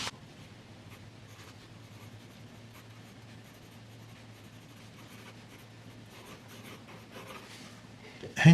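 A fountain pen filled with Noodler's Baystate Blue ink scratches softly across a Rhodia pad in quiet, continuous strokes over a low background hum, ending with a louder bump.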